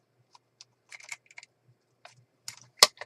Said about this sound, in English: All right, I cut it. It's been cut.